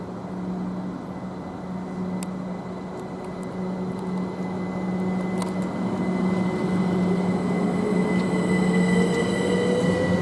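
Class 379 electric train 379029 departing Stevenage station, a steady rumble of wheels rising slowly in volume with a thin whine climbing in pitch as it gathers speed, plus occasional clicks from the track.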